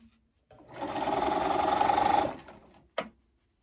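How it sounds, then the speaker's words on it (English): A sewing machine top stitching binding on a romper, a single close burst of rapid mechanical whirring lasting under two seconds, then a brief click as it stops, with no voices. "we're gonna continue to top stitch"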